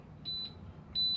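Low air pressure warning buzzer in a truck during a CDL pre-trip brake inspection, two short steady high beeps repeating at an even pace over low cab rumble, with no talk.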